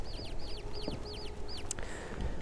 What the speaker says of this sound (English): Them annoying birds again.